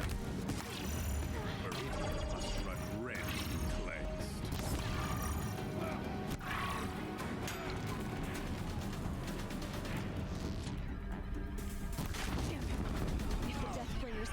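Deathbringer machines fire continuously in a Horizon Zero Dawn battle, a dense rattle of mechanical gunfire and clanking layered under loud game music and effects for the whole stretch.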